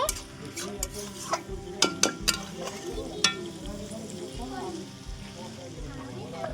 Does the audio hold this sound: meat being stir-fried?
yes